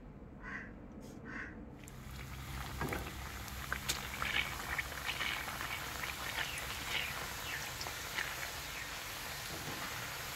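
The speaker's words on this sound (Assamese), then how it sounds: "মই এইখন কেৰাহীত মই নিমকি চাকিছোঁ" Nimki frying in oil in a thin kadai, a steady, soft crackling sizzle with small bubbling pops that continues evenly throughout.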